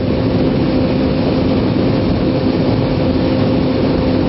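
A Kawasaki Ninja 250 motorcycle engine while riding, a loud steady low drone with constant rumble and wind-like noise throughout, no talking.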